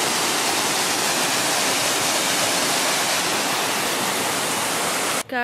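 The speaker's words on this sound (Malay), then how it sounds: "Sekarang kita dekat air terjun si Piso-Piso." The Piso-Piso waterfall near Lake Toba, Indonesia, roars as a loud, steady broadband rush of falling water, close by and continuous, cut off briefly near the end.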